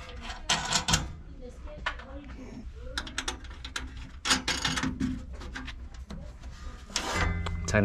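A ratchet tightening nuts back onto a walk-in cooler unit during an HVAC service call, with bursts of quick clicking ratchet strokes and metallic handling noises, fairly close and intermittent.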